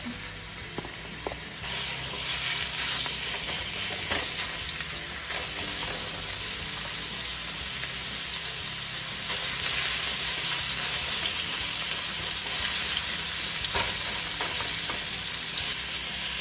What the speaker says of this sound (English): now that our oil is heated up, we're going to add the beef. We're going to go and stir fry all of that